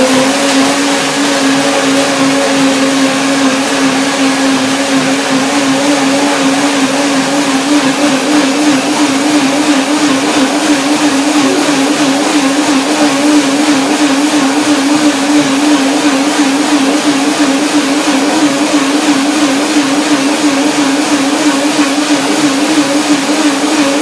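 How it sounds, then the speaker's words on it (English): Kitchen blender running steadily while blending bananas and nuts, a loud, constant motor whir with a slight wavering pitch that holds for the whole stretch without pauses or voices. "So now the blender dance"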